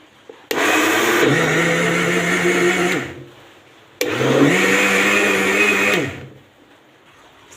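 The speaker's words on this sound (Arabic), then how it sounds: "صافي هنا كما كتشوفوا طحنت الباربه بوحدها، طحنتها مزيان" A blender grinds prickly pears (barbary figs) in two loud bursts of about two and a half seconds each, motor whine rising and holding steady, with a short pause between runs.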